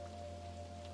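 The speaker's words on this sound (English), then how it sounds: "Outside the window, the rain continued," Steady rain falls on a window glass, a faint, even patter continuing without pause behind a low constant hum.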